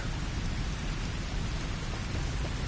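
Rain and rolling thunder fill a scene in the video game Final Fantasy XV, a loud continuous roar of downpour with deep low rumbling throughout and no speech.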